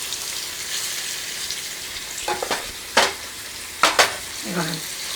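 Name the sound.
nethallu fish frying in a pan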